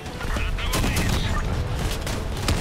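Weapons fire in the vehicle-combat video game Crossout, with dense bursts of shots and booms packed together at steady, fairly loud volume throughout.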